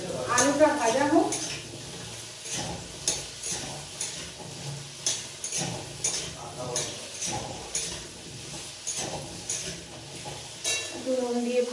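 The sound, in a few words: potatoes frying in a wok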